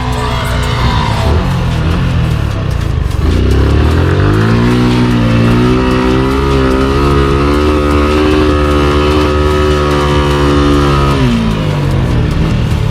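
A Bajaj NK250 motorcycle engine revs hard while its wheel is stuck in desert sand, loud and close, with a sustained rising and falling roar and steady harmonic whine across the whole stretch.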